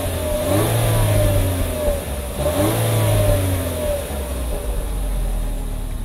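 A Chevrolet Trax engine revs twice in steady rises and falls, the tone climbing then dropping back to a strong idle hum, loud and close with no talk.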